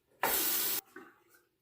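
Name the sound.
rinsing a safety razor under water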